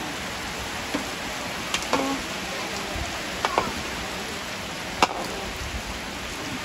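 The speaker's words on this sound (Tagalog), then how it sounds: "nag-ulan na" Steady soft hiss of rain falling at a birthday gathering, with a few scattered louder drips and taps standing out against the constant wash.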